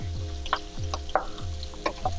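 Jumbo 16-20 shrimp frying in a pan over high heat, with steady sizzling broken by repeated scraping stirs and clinks at a regular pace, close up and without speech.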